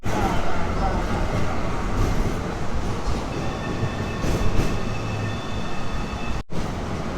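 A Belgrade tram rumbles steadily close by with a continuous rolling rail noise, rising slightly midway with faint tonal whines, and people speak over it.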